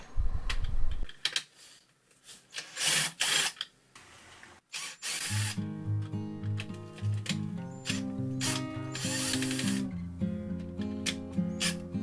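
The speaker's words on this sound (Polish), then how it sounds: "Odkręcamy je kluczem Torx" Metal screws are unscrewed with a Torx T10 key from a coffee machine's brew unit, producing scattered clicks, scrapes and ratcheting rasps, with a rhythmic mechanical whir in the later part, close up and fairly quiet.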